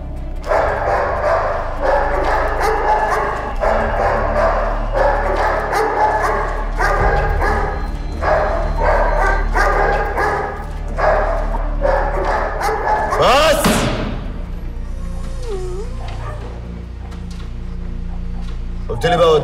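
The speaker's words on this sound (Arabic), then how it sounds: "الكلاب دي بقالها 3 ايام ما كلتش" Dogs, said to have gone unfed for three days, bark loudly and repeatedly in a steady rhythm close by, with yips and whimpers mixed in, under tense dramatic music and a sudden sweeping effect near the end.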